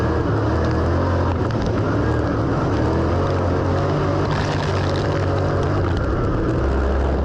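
A dirt track race car's engine roars continuously from inside the cockpit, a loud, dense drone with rising and falling revs and rattling chassis noise.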